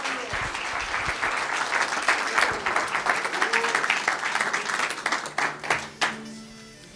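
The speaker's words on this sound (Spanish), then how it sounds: "Dele un aplauso al Señor." An audience claps in steady applause for about six seconds, with voices audible through it, before the clapping thins out into a few scattered claps.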